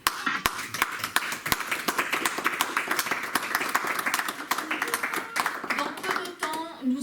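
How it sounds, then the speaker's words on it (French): Applause at a general assembly meeting, a run of sharp clapping in a small group over a background of room sound. A voice speaks near the end. "Je vous applaudis tous pour votre présence."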